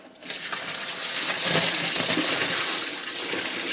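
Tap water runs steadily into a kitchen strainer holding freshly cooked sausages, a continuous rushing splash lasting several seconds with no talking.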